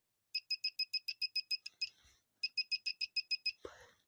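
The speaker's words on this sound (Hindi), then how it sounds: "टच करते ही ये बीप बजाना शुरू कर दे रहा है" A multimeter in continuity-test mode beeps in rapid pulsed bursts, two runs of about ten quick, clear electronic chirps separated by a short gap, close and alone apart from faint handling noise.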